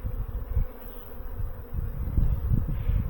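Honeybees coming out of winter fly around their hive on a mild day, making a steady, close, low buzzing hum that swells and fades slightly as individual bees pass.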